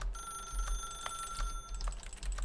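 Telephone ringing in The Stanley Parable video game, a bright electronic ring repeating in short bursts at a steady rhythm over a low background hum, alone with no talk.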